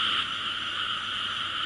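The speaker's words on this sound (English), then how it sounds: "there's a chorus going on over in the field. I think the frogs think it's going to rain." A chorus of frogs croaks from a field at night, a dense, continuous trilling that fills the air steadily and evenly at a moderate distance, with no voices over it.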